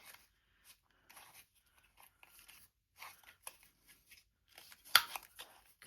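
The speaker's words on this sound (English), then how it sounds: "cut the ends off." Scissors snip the ends off paper scraps in a few short, quiet crisp cuts spread out, with one louder snip near the end in an otherwise quiet room.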